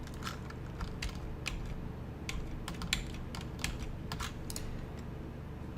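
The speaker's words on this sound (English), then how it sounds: "we type in what we need" Values are being typed on a computer keyboard in a steady run of quick, close key clicks with a few brief gaps, alone without talking.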